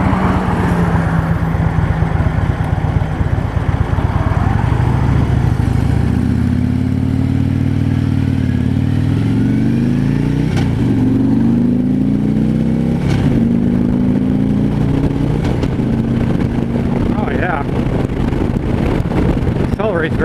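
A 2015 Harley-Davidson FLHTP touring motorcycle on a test ride accelerates through its gears, its loud engine note climbing repeatedly in pitch under constant heavy wind rush.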